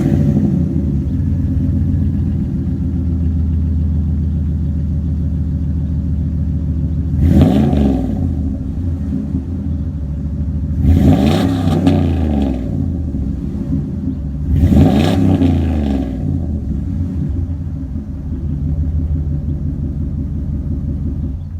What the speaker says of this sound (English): start and let you hear the exhaust